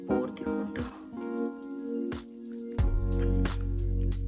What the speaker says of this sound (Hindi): तो लेट्स पोर द वाटर